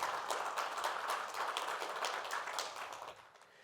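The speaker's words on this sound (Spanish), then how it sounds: "Aplausos, por favor, para Ana" A conference audience applauding a technical speaker, a steady wash of many hands clapping at moderate distance that fades out near the end.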